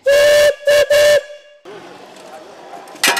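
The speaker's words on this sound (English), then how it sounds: "That's a 1906 Russell steam engine, a traction engine." A 1906 Russell steam traction engine at a county fair steam show sounds three loud tonal whistle blasts, two long and one short, followed by hissing steam and a brief burst at the end.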